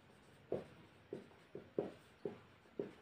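A pen writing out the volume of a second, smaller sphere in a quiet room, with faint, evenly spaced stroke taps about every half second against near silence.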